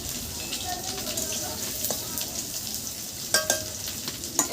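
A soft, steady sizzle of potatoes frying in a pan, fairly quiet, with a few light clinks near the end.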